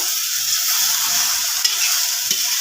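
Okra stir-fried with salt in a pan gives a steady, bright sizzle with soft stirring scrapes and a couple of light clicks from the utensil, with no talking.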